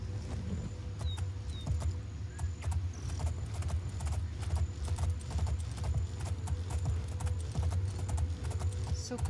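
Steady hoofbeats of a horse in modded Oblivion clip-clop at a quick, even gallop under a constant low rumble and faint ambient game noise, with no talking.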